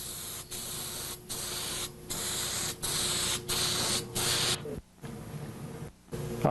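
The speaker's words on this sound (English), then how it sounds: "Spray, saturate it the same way." Cleaner is sprayed repeatedly onto a rag while resurfacing a stone memorial, giving a series of close, loud hissing bursts separated by short gaps in a steady rhythm.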